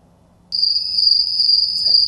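A steady, shrill cricket chirping sound effect starts abruptly and rings on continuously and loudly, used as a comedic beat of silence after a joke.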